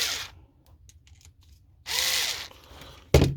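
An electric screwdriver drives screws into an FTX Outback 2 RC car during a 540 motor conversion, with a short whir near the start, a longer buzzing whine in the middle and a brief sharp burst at the end.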